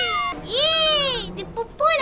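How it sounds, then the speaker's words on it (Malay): A cartoon cat from Boboiboy gives a long, clear, wavering meow up close, followed by a shorter second meow. "Kewujudan kucing juga meneruskan tradisi Papa Zola yang suka membela kucing."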